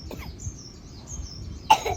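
A young child coughs, with a short faint cough early on and one sharper, louder burst near the end, over quiet room noise with faint chirping in the background.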